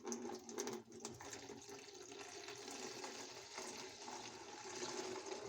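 Evapo-Rust rust remover pours into a container in a steady, faint liquid gush that runs throughout without pause, with no voices.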